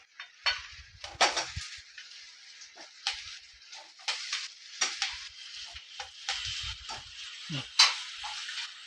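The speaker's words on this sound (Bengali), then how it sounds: "এই যে আলুগুলো ভেজে রেখেছিলাম না, সে আলুগুলো আমি দিয়ে দিচ্ছি এর মধ্যে" Pre-fried potatoes tipped into a pan and sautéed with drumsticks, close bursts of utensil scraping and clinking against the pan over a soft underlying sizzle, with short pauses between strokes.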